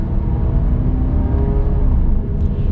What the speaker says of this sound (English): we're gonna get our super minor acceleration right here